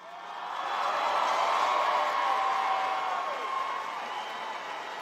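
Graduating high school class clapping and whooping in a large venue at a graduation ceremony, a broad steady wash of crowd applause that swells in the first second and holds, fairly distant and reverberant.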